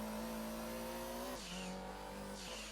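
A GT500 race car's engine screams in Gran Turismo 2, rising steadily in pitch and then dropping sharply twice as it shifts gears, loud and close with no talking.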